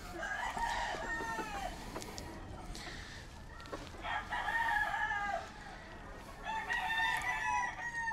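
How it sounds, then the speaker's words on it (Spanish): Roosters crow repeatedly at a game-fowl breeding farm, several long strained calls near and far overlapping, with hens clucking and outdoor background noise between them. "El gallo, güey."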